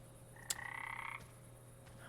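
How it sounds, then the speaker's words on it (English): A frog croaks in a video game, Project Silverfish: one short, faint, rapid croaking trill heard alone over a low steady hum. "Oh, we need our lucky frog."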